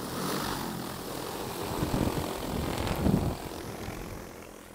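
An XAG P150 agricultural spray drone, carrying about 5 gallons, lifts off outdoors with a steady, loud whirring rotor drone that swells briefly mid-takeoff, then eases slightly as it climbs away.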